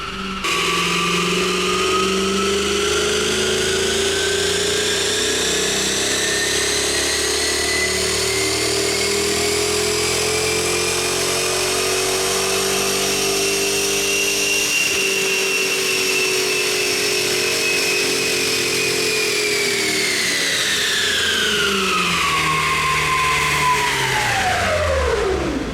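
A Mercedes E63 wagon with 204,000 miles revs hard on a dyno, its loud engine note climbing steadily in pitch for over twenty seconds before dropping sharply as the throttle closes.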